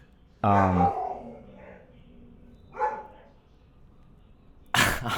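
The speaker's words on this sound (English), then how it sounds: "If you hear that, that's my dog." A pet dog gives a loud, close bark, then a fainter yelp, then another sharp bark, set against a quiet indoor room.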